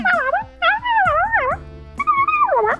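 A voice imitates a bunny with high, squeaky, warbling whimpers in several quick bursts, close and fairly loud.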